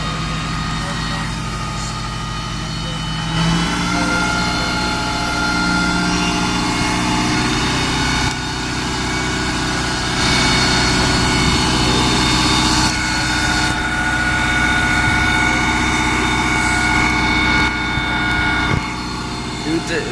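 A London double-decker bus engine under kick-down and hard acceleration at a Stagecoach depot in West Ham, with a loud, steady engine roar that rises and surges through the clip while people talk over it.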